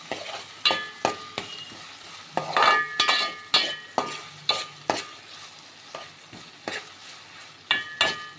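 Coarsely crushed garlic, ginger and coriander fry in oil while a spoon stirs and scrapes the pan in repeated, fairly regular strokes over a continuous sizzle, close and clear with no voices.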